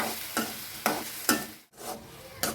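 Tomatoes sautéing in a pan for a drumstick stir-fry, a soft steady sizzle broken by four or five scraping stirs at roughly half-second intervals, close and with no voices.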